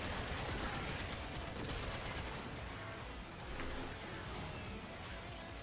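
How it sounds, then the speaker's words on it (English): Steady background gunfire from a war video game, a dense continuous rattle of shots and bursts filling the whole stretch at moderate level with no clear pauses. "if you feel like just hanging out and yapping, except with a bit of gunfire and stuff in the background"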